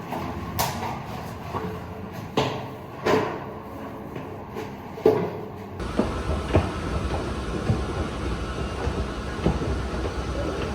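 A local train rumbles into a Tokyo station with clattering rail noise and metallic clanks, a steady roar building after a few seconds of scattered knocks.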